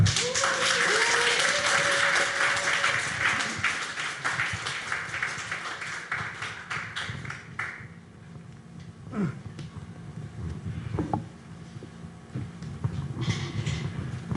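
Applause from a lecture audience at a public humanities talk, a broad, steady wash of clapping for the first seconds that thins and fades into scattered claps and room noise, with a few brief voices near the end.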